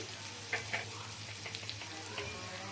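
Masala spices for an egg curry fry gently in a pan with a soft, steady sizzle, quiet and continuous, broken by a few faint clinks of stirring.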